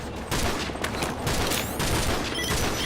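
Rapid bursts of gunfire and explosions fill a military video game battle with Russian tanks firing on a position, dense and continuous throughout at steady loudness with no voices.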